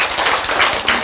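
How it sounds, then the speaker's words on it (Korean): An audience clapping together in a lecture hall, a dense, loud, continuous patter of many hands for about a second with no talk over it. "박수."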